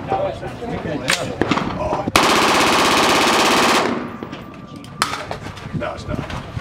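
A full-auto burst from an automatic gun at the SHOT Show range rattles loud and continuous for nearly two seconds, bracketed by single sharp shots and the clatter of people nearby talking.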